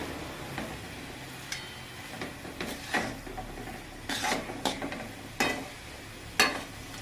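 Coconut barfi mixture being stirred in a pan over a low flame, with soft scraping and rubbing strokes at an irregular rhythm, a few louder strokes standing out, close and fairly quiet, with no talk.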